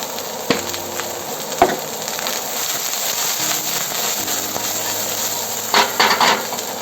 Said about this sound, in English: Just adding in the onions first. Let it cook for a little bit before we add in the garlic.